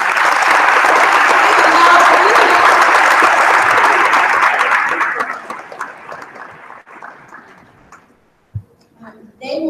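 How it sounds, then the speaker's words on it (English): A large conference audience breaks into loud, dense applause for students, holding steady for several seconds before fading into scattered claps and murmurs. "I just want to give a big round of applause for our students"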